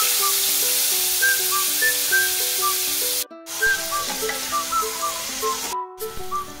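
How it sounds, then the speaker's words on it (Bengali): Sliced onion frying in hot oil in a pan for a Bengali katla fish kalia, a soft steady sizzle running beneath louder melodic background music that briefly cuts out twice. "এখন আমি পেঁয়াজটা ভেজে নিচ্ছি।"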